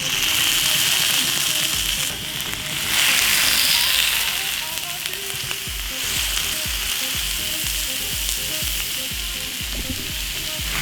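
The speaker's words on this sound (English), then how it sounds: "now let's get the sizzling happening." Loud, continuous sizzling of marinated chicken skewers frying in a hot pan, with crackling spatter and occasional clinks and scrapes of utensils.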